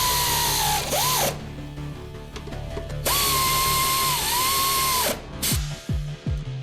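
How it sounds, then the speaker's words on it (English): A power tool drives the three upper strut mounting plate bolts on a 2001 Toyota Camry CE during a Monroe Quick-Strut install: two sustained whirring runs with pitch dips as each bolt seats, then short ratcheting bursts. "Lower the vehicle and tighten the 3 upper mounting plate bolts."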